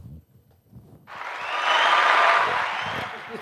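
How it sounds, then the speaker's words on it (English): Canned hand-clap applause from a soundboard button on a talk podcast, a dense burst of clapping that swells in after a second of quiet chatter and holds steady before fading. "the yellow button hand claps"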